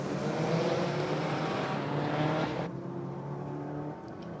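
A Subaru WRX and Forester at a roll drag race roar past at a distance, a steady engine drone with rising tones that abruptly thins and fades toward the end.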